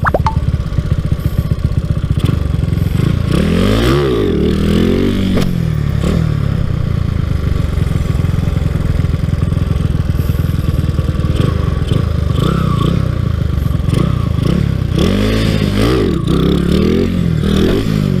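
A Honda Wave 125 motorcycle with a 54 mm bore engine revs loudly and continuously in first gear during wheelie practice, its pitch repeatedly sweeping up and back down, close by and without talk.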